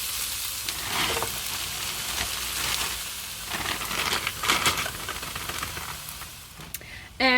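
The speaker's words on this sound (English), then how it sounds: "I'm going to chuck in all of our frozen veg next and cook these guys off" Frozen vegetables frying in a hot pan give off a close, busy crackling sizzle with a few louder spitting bursts, ending in a sharp clatter.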